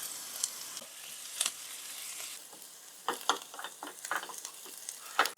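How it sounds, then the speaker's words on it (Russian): Onions sizzle softly in a frying pan with a pinch of sugar, a quiet continuous crackle punctuated by bursts of stirring and scraping, with no voices present. "Отправляю обжариваться лук до легкого золотистого цвета. Добавляю буквально щепотку сахара, чтобы лук карамелизировался."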